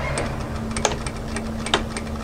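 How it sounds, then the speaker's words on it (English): A sewing machine stitching a small back tack on a kimono kaftan seam, a steady close motor hum with a quick rhythmic ticking of the needle and a couple of sharper clicks. "put a small back tack in to start"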